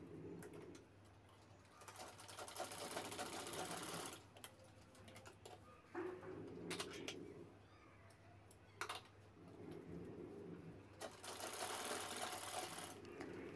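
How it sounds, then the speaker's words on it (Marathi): A sewing machine runs in several bursts while stitching across the corners of square-cut fabric, the motor whirring loudly for a few seconds at a time between quieter pauses, with pigeons cooing faintly in the background. "तिथे आपल्याला शिलाई घ्यायची कॉर्नरला"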